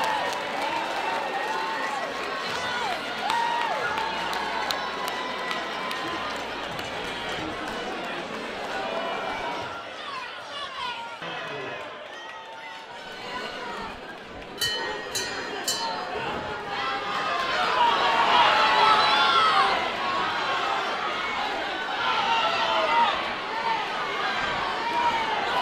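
Crowd at a white collar boxing match, a dense roar of chatter and shouting that swells louder in the second half, with a commentator speaking over it and a few brief metallic clinks.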